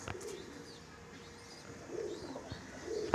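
A Kalanka breed pigeon coos softly in a few short, low bursts, with scattered chirps and small knocks in a quiet room, fairly close.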